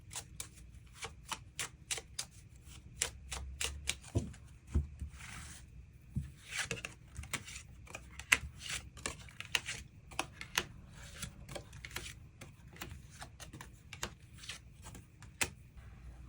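Tarot cards are shuffled and drawn close by, a rapid run of crisp papery riffles and snaps, quiet, continuing with irregular bursts and brief pauses throughout.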